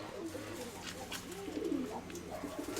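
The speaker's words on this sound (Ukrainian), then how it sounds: "Це в мене голубочки такі вже собі біленькі." White domestic pigeons coo softly in repeated low burbling phrases, fairly faint and close, over a quiet indoor background.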